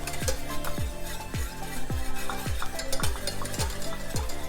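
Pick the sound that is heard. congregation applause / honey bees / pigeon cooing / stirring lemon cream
stirring lemon cream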